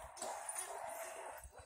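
A female dog being offered for rehoming whimpers softly, with faint, thin whines and small yips over a quiet indoor background. No one speaks.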